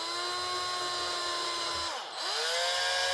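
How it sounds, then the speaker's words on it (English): An electric drill whines steadily while tapping a thread freehand during a Tamiya CW-01 chassis build, briefly slowing and dipping in pitch before spinning back up, close and loud. "You're not supposed to use electric drill, and you're certainly not supposed to do it freehand like this."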